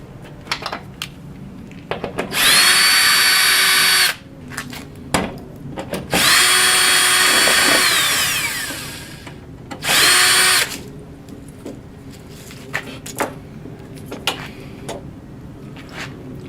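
A power drill removes screws from a wall shelf bracket, running in three loud bursts of about two, three and one seconds, with steady whine and clicks and handling knocks between them.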